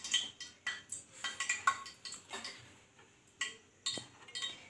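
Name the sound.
mixing ginger paste and garlic in a bowl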